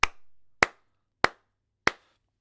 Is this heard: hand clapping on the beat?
yes